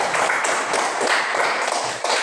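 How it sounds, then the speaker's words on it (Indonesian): A classroom group gives a short round of clapping for a student group after a reading, with brisk, light hand claps spread across a couple of seconds at moderate volume. "Beri tepuk tangan untuk kelompok"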